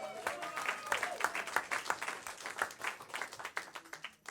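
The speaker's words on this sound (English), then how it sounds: "That's usually my one guaranteed applause break for the 5 minutes." Audience at a live stand-up comedy show breaking into applause, a steady patter of many hands clapping at moderate distance, fairly quiet and tapering off toward the end.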